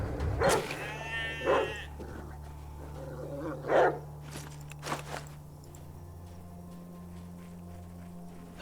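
A sheep in the video game ATOM RPG bleats several times, with wavering cries spaced a second or two apart over a low steady hum, then falls quiet.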